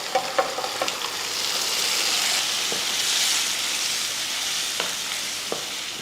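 Green gram curry is stirred in a pan, giving a steady close sizzle with scattered scraping clicks from the spoon, alone without talk.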